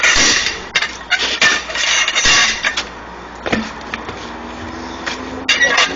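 Truck tire bead being worked off the rim by hand with tire tools, a run of close metallic scraping, prying clanks and knocks over a low background hum, with no talk.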